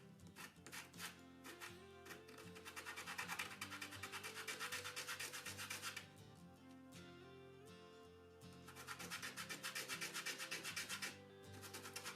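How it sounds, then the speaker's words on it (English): A CretaColor pastel pencil is scraped against sandpaper to sharpen it, giving a steady, close rasping rub in repeated bursts over about twelve seconds, with a soft musical backing underneath. "So now I'm gonna try to use the sandpaper and see how that goes."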